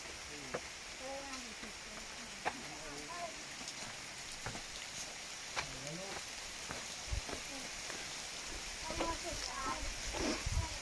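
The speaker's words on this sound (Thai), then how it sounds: "ฝนตกแล้ว" Rain falling on a rocky trail beneath a cliff overhang at a rock-painting site, a steady hiss with scattered drop taps, while people talk intermittently nearby.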